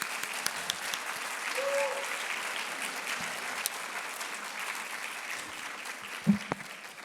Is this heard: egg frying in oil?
no